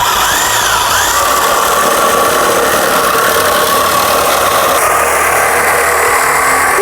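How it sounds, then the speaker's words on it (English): A Milwaukee Sawzall reciprocating saw cuts through metal with a loud, steady, continuous grinding buzz that runs for the whole stretch without a break. "Nothing like a good Sawzall to do some cutting."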